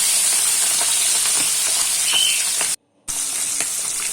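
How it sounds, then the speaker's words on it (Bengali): Tangra fish fry in salted mustard oil with a loud, continuous close hiss and crackle that cuts out briefly to silence before resuming, and no one speaks. "মাছগুলো ভাজার জন্য দিয়ে দেবো।"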